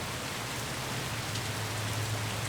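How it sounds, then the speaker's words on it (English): Steady, dense hiss of constant rain falling on a volcanic island in the video game Carrier Command 2, with a faint low hum beneath and no voices. "Welcome to the volcanic island where it just rains constantly."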